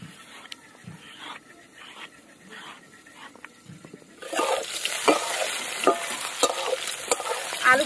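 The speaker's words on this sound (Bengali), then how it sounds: "আলুগুলো কিন্তু ভালো করে একদম ভেজে নেব।" Potatoes hit a hot pan of oil tempered with cumin and bay leaf, bursting into a loud, steady sizzle after a few quieter stirring and scraping sounds, with spatula clinks continuing through the frying.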